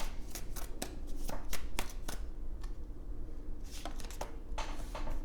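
Tarot cards shuffled by hand in a run of crisp riffling bursts, close and fairly quiet, over a light background hiss with no talking.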